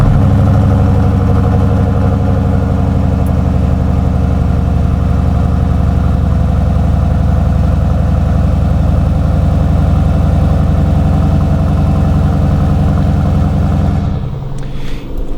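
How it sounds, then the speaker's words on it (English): Dodge Durango SRT engine idling after a cold start in freezing Pennsylvania weather, a loud, steady, deep rumble held close and constant for most of the stretch before easing off near the end. "it is time for a cold start."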